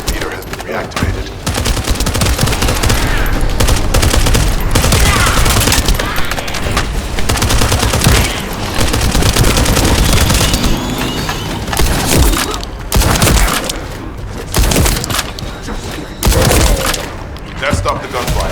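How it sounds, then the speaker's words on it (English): Sustained automatic gunfire in The First Descendant video game, dense bursts of shots and impacts running throughout at loud, close range, with brief gaps and some spoken voices mixed in. "That stopped the gunfire."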